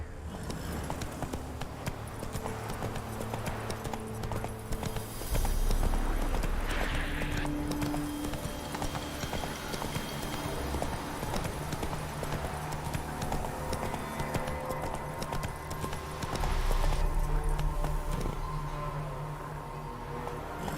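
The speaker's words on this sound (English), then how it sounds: "Not so fast, Roach." Rhythmic clip-clop of a horse's hooves galloping in The Witcher 3, steady and close throughout, with a brief whinny and game ambience, and a voice speaking at moments.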